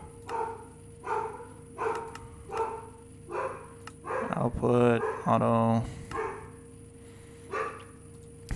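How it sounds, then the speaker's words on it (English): Dogs bark in a steady series of sharp yaps, a little distant, with a voice speaking over the middle of the barking. "There goes my dogs."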